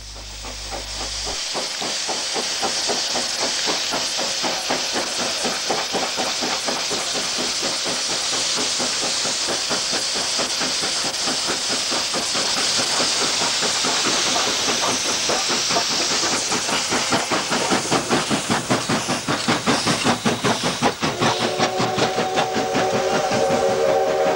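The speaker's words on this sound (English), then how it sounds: "An FD pilots an SO out of Korostov in the Ukraine during wintry conditions of February 1994." An FD steam locomotive pilots an SO steam locomotive hauling a train out of Korostov, Ukraine, in wintry February conditions, with loud continuous steam hiss and rapid rhythmic exhaust beats. Near the end a whistle-like tone rises over the chuffing.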